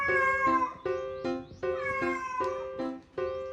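A cat meows loudly and repeatedly, several long drawn-out cries in quick succession, close and insistent.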